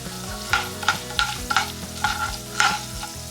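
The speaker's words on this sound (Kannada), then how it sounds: "ಈಗ ಇದನ್ನ ಒಂದು 30 ಸೆಕೆಂಡ್ ಅಷ್ಟು ಹೀಗೆ ಎಣ್ಣೆನಲ್ಲೇ ಹುರ್ಕೊಳ್ಳೋಣ" Urad dal and chana dal roast in oil for amla chutney, with about eight quick scraping stirs of a spoon over a soft, steady sizzle, close and alone.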